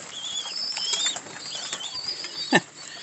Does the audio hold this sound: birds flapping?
yes